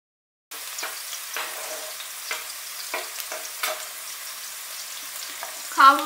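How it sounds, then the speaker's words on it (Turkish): Chopped onions sauté in a pot for a purslane dish, giving a quiet, steady sizzle broken by several soft stirring scrapes and ending with a brief clatter. "Ve beraber kavurmaya devam ediyorum soğanla."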